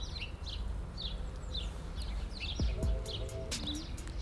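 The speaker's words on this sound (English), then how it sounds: "you can already hear the birds now" Birds sing and chirp in a forest on a small hill, several repeated short calls at a moderate distance over a steady low rumble, with a few louder close chirps toward the end.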